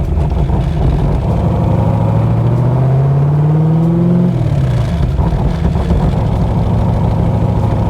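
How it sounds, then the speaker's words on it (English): A 1965 Backdraft Cobra accelerates hard, its engine note climbing steadily through the rev range, then dropping at a shift and pulling again, loud and close from inside the car throughout. "Yeah, it's an aggressive acceleration."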